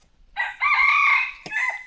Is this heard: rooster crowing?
yes